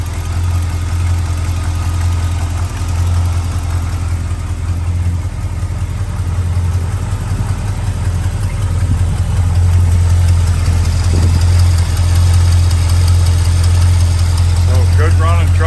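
A 1969 Chevrolet K10 pickup truck with dual exhaust idles steadily close by, a loud, even low rumble with a constant throb that never changes pace from start to finish.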